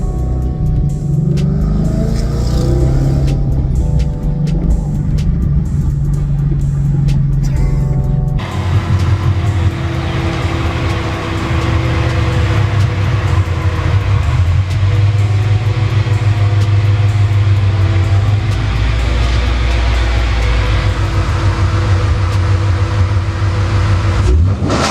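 A Ford Mustang with a 3-valve 4.6 V8 and no exhaust at all rumbles loud and close, its engine note droning and rising over a steady road roar.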